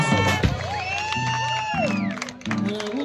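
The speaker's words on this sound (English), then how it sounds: "So give them a nice round of applause." An audience at a Lacey Elks concert cheers with rising and falling whoops and shouts, fairly close and lively, over a low background rumble of the crowd.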